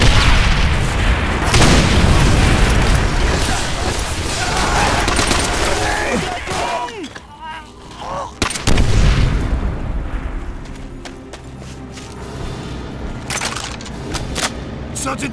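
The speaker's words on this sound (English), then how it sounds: "Fire the Panzerschreck!" A Panzerschreck rocket launcher fires and its rocket explodes amid a Call of Duty World War II battle against tanks, heavy booms and bursts of gunfire crowding a loud, dense soundscape, with shouted voices mixed in.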